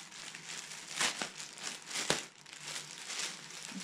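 Crinkly plastic bag of mailed goodies being handled and opened, with soft rustling and a couple of sharper crackling snaps, close and quiet with no talking.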